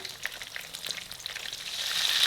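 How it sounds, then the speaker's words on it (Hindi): Battered baby shrimp tempura deep frying in hot oil, a steady crackling sizzle that swells slightly louder toward the end, close and with no voices. "3 मिनट हो गए इनको फ्राई होते हुए।"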